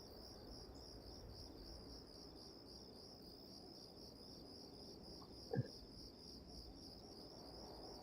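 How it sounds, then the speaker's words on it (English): Steady chorus of cricket chirping ambience in the video game Tomb Raider Chronicles, a continuous high pulsing trill running throughout with a brief faint thump near the end. "audio track of cricket sounds."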